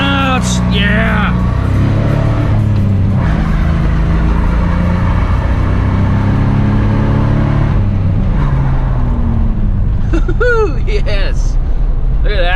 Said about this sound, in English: Tire smoke. Alright, good vehicle, does burnouts.